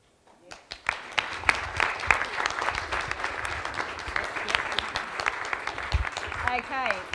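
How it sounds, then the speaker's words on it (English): Members of a citizens' jury in a report-finalisation session applaud, the clapping swelling quickly after a quiet moment and holding dense and even, with a voice starting up faintly at the very end. "so applause"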